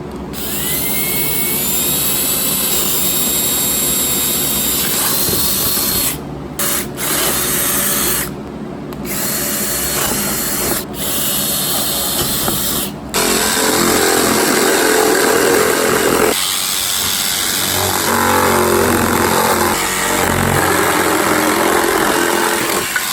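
Power tools working faux shiplap board: a loud whining drill and jigsaw cutting, steady high buzzing with brief pauses and a rougher, louder cutting stretch near the end, no voices.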